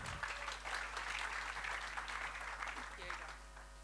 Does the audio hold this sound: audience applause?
yes